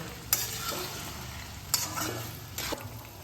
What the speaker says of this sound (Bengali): মশলার সঙ্গে ম্যারিনেট করা চিকেনটা ভালোভাবে মিশিয়ে নেব।